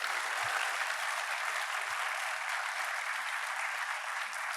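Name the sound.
applause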